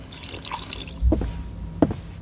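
Water poured for someone to drink, heard as a few close, separate drips and splashes with a soft clunk, in a quiet room.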